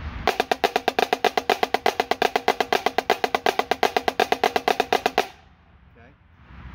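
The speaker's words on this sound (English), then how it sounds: "You put flam taps in there. So it sounds like this." A snare drum plays a rapid, steady 5/8 rudiment exercise with flam taps: about five seconds of crisp, evenly spaced strokes with accented grace-note hits, loud and close, then it stops into near silence.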